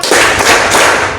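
Hand claps from a clapping concentration game, a few sharp broadband slaps in quick succession, close and fairly loud, with no voices over them.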